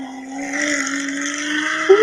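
A car's engine drones with a steady, rising tone that holds through most of the passage and sharpens briefly at the end, fairly loud and alone with no speech.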